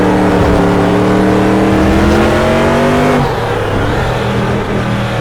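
A SuperTruck racing truck in the Automobilista racing game roars loudly and constantly, its engine pitch climbing as it revs, then shifting and settling into a lower drone.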